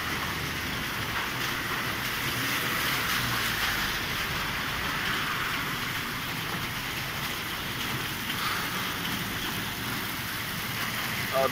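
Steady rain falls outdoors during stormy weather, an even, dense hiss of drops on surfaces that holds unbroken throughout, with faint traffic rumble beneath and no talk.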